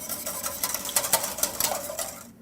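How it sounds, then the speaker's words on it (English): A whisk stirs turkey pan juices into gravy in a pan, making a quick, close run of scraping taps that keep an uneven rhythm for a couple of seconds. "Now I'm just going to whisk those yummy juices right into the gravy."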